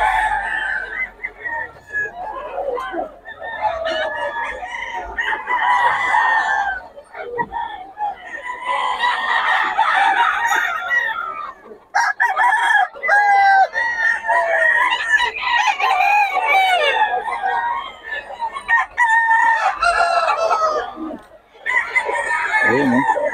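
Chickens at a roadside poultry market cluck and call loudly and continuously nearby, with repeated crowing from a young rooster and a busy chorus of other fowl, voices talking intermittently underneath.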